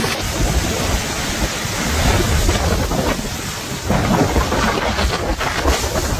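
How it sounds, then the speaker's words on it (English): Thunder rumbles during a wind storm, with heavy roaring gusts and a broad rushing wash of rain-like noise, the low booms swelling loudly twice, without speech. "That thunder's huge!"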